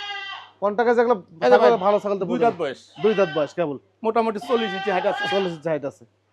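Goats bleat loudly and repeatedly up close, wavering cries in quick bursts with short pauses between them.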